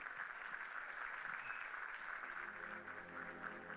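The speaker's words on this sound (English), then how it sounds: "Let's give them a round of applause." Audience applause at the Miss Bermuda 2015 pageant for wardrobe sponsor A.S. Cooper and Sons, a steady wash of clapping from a crowd held at an even level, fairly distant, with no voices over it.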